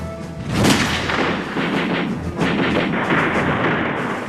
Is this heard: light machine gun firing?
yes